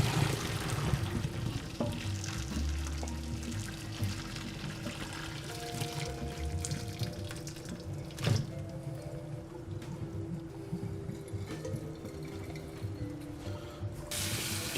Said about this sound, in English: Now I'm just going to drain these.